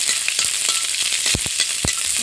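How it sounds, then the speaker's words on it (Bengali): Garlic frying in a wok for a taro-leaf dish, giving a steady close sizzle with a few sharp stirring scrapes and clinks. "তো আমি রসুনটা একটু ভেজে নেব"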